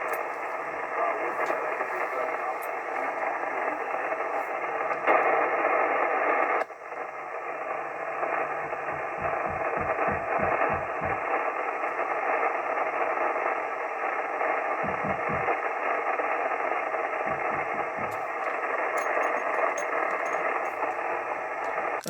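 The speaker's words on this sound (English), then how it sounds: "the QSB dropped your signal to the floor" An amateur radio signal on an FT-757GX transceiver fades out into a wash of static on a noisy band, with a sharp drop in the signal partway through and faint bursts of interference.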